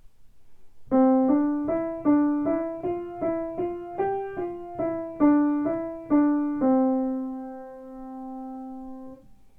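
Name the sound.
piano notes played legato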